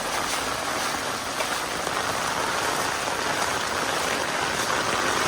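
A dense, unbroken wash of heavy monsoon rain beating on surfaces while water runs down a flooded street in Punjab, steady and close, with no voices.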